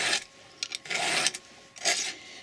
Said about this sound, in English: I am pulling with this hand, I'm pushing with this hand at the proper angle, and I'm trying to sharpen that tooth to a really sharp point.